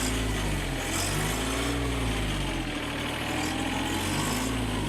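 Backhoe engine idling, a loud steady low rumble with a continuous drone that holds even throughout, no talking over it.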